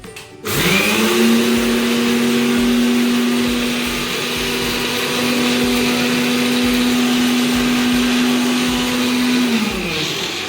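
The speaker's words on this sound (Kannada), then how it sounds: "ಇವಾಗ ಸಕ್ಕರೆ ಅದೆಲ್ಲ ಮಿಕ್ಸಿ ಮಾಡಬೇಕಲ್ಲ." A kitchen mixer grinder grinds sugar with a loud, continuous motor whine that spins up quickly, holds steady for about nine seconds, then winds down.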